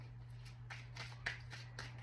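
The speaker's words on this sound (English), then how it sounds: "Give it one more shuffle." Soft riffling of tarot cards being shuffled in a few quick bursts, quiet and close, over a low steady electrical hum.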